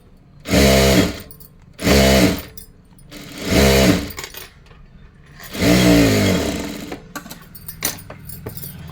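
A sewing machine stitches a blouse fabric hem in four separate runs of rapid mechanical whirring, each about a second long with short quiet pauses between, close and loud, with faint handling noise after the last run.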